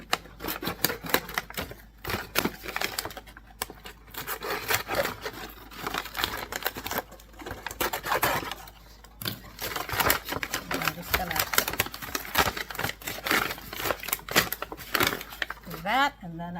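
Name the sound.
cutting open the sides of a flour bag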